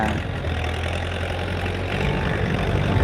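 A farm tractor engine idles nearby in a field, a steady low rumbling drone with slight knocking texture that swells a little toward the end, with no talk over it.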